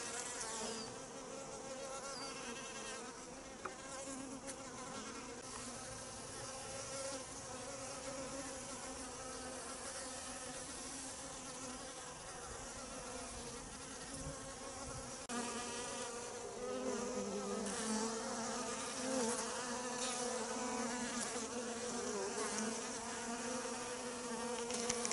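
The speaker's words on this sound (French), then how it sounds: "Les abreuvoirs sont remplis d'abeilles," Honeybees crowd a water feeder at an apiary in February, giving a dense, continuous buzzing hum from many insects close by, with no talk.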